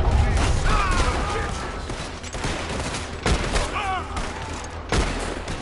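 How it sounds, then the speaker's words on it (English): Gunfire in a Red Dead Redemption 2 shootout: repeated sharp shots and bursts crack through a dense, noisy game mix of effects and background sound, steady and fairly loud throughout. "we're just shooting now"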